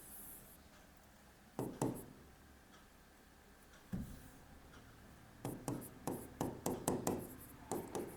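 Chalk knocks and scratches across a classroom board in short bursts. A lone pair of taps comes first, then a single one, then a quicker run of strokes toward the end, close and alone against a quiet room.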